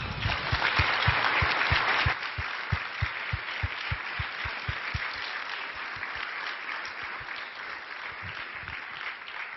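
Conference audience at a research event applauds steadily, a dense wash of many hands clapping that starts loud and tapers slightly while continuing on its own, with no talk over it.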